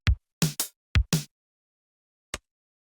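A drum beat is played through Ableton Live's Beats warp mode with no fade after the transients, so each hit cuts off abruptly. The sharp separate hits are spaced by silence, with a lone final hit.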